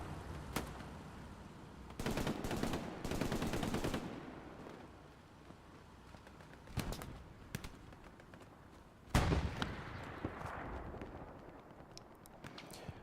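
Rifle and machine-gun fire with explosions rattles through a 49-versus-49 Hell Let Loose battle on Omaha Beach, with dense bursts early on, scattered single shots, and a heavy blast later over a constant battlefield rumble.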